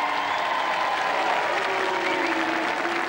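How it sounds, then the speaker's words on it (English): A crowd at a 1987 royal charity knockout tournament applauds the Duchess of York, a continuous wash of clapping and crowd noise, loud and even for a few seconds. "A little applause, please, for the Duchess of York."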